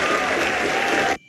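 Applause for hackers, judges and mentors at a data science hackathon grand finale, a loud, dense burst of many hands clapping that cuts off abruptly near the end.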